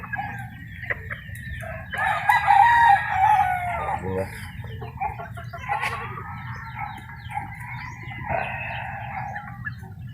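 Gamecock roosters, Milsem Black and Chicken x Lemon Sweater fowl, crow loudly several times at close range, with clucking between the crows over a steady low background hum.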